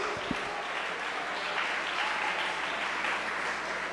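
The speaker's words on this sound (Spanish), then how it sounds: "¿Cuánto le damos un aplauso a Dios?" A church congregation breaks into sustained applause, a dense, steady wash of many hands clapping that fills the room evenly for several seconds, with no voice standing out.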